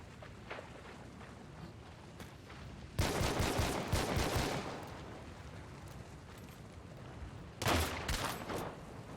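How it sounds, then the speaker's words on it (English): Video-game gunfire from hip firing comes in two rapid, loud bursts of repeated shots, with quieter scattered shots and faint movement sounds between them. "Just hip fire that man."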